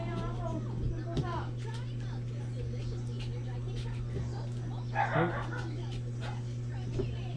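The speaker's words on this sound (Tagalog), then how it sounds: "Naaway ng pusa yung tuta." A puppy attacked by a cat lets out faint yips, brief barks and whimpers over a steady low hum, with people talking nearby.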